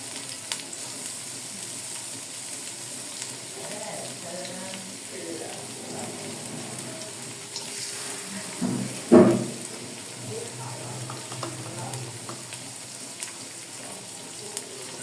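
Onion fries in oil with green chilies, giving a low continuous sizzle under faint kitchen clatter and occasional stirring, with one louder clunk near the middle.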